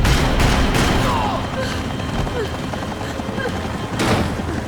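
Gunshots ring out in the video game Max Payne 3, a few sharp bursts scattered through a dense, noisy action scene with a steady rumbling drone beneath.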